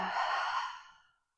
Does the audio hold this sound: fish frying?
no